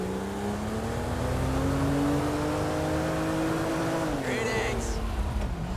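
A car engine drones steadily in Grand Theft Auto V as the vehicle drives along, its pitch rising slightly as it accelerates, with a brief higher whine near the end and voices talking over it.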